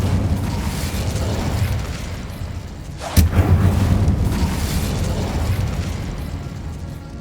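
An Incendio fire spell cast in the game Hogwarts Legacy bursts out suddenly as a single sharp whoosh and pop in the middle of a steady low ambient rumble, then fades back into the background.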